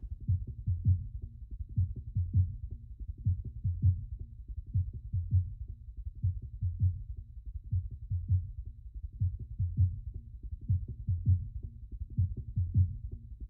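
Low band isolated from the drum break, carrying the kick drum: a steady, muffled rhythmic thumping with a dull, boomy low end and no highs, looping evenly throughout at moderate level with no voices.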